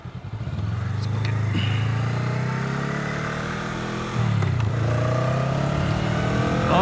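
A motorcycle engine pulls hard in a steady, loud drone on a highway in third gear near 50 mph, its pitch climbing, then briefly dipping around a gear change before rising again, with heavy wind rush underneath.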